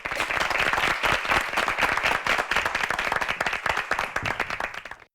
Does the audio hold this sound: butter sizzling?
no